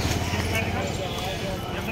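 Horse hooves clip-clop steadily on a street near Mangalnath temple in Ujjain, under busy outdoor noise and a voice.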